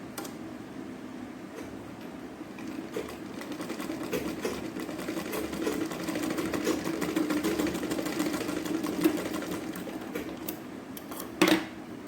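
A sewing machine stitching a decorative latkan for a blouse runs with a continuous, fast, rhythmic whirring and ticking that ends with a brief louder clack.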